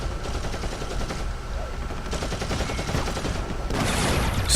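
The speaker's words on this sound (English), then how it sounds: "Where's the shooting coming from?" Continuous rapid gunfire from Warhammer 40,000 Eternal Crusade, loud machine-gun-like bursts rattling steadily throughout and intensifying near the end.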